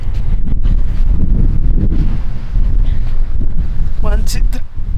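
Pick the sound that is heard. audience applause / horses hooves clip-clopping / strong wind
strong wind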